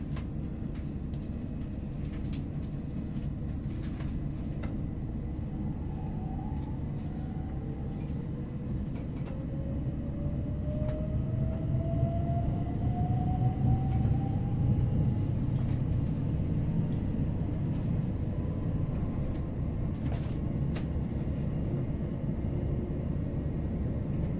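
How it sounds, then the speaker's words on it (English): Steady low rumble inside a moving Great Western Railway train between Didcot Parkway and London Paddington, with a rising whine of the motors and occasional clicks, continuous and fairly loud throughout. "This is a Great Western Railway service to London Paddington."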